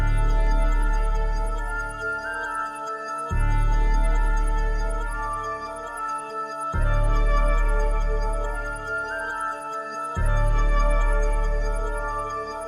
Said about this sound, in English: You can hear it already has some ethnic elements in there with the flute